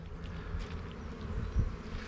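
Honey bees hum softly and continuously over a brood frame lifted from a beekeeper's hive, a low, close buzzing with a brief louder swell near the end.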